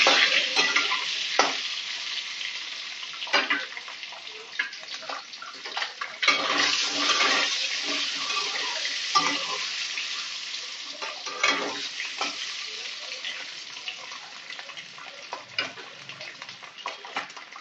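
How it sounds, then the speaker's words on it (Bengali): Eggs rubbed with salt and turmeric fry in hot oil in a home kitchen, giving a steady close sizzle with periodic louder spitting bursts and stirring scrapes, with no talking. "ডিমেতে নুন হলুদ মাখিয়ে রেখেছি, ডিমগুলো একটু ভেজে নেবো।"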